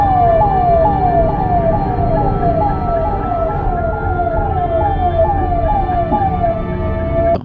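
An ambulance siren wails steadily in Indian traffic, a loud, close, repeating rising sweep that cycles evenly throughout with a constant engine-like rumble beneath.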